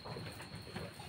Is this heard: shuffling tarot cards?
no